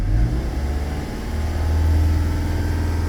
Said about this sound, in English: Okay, car is running.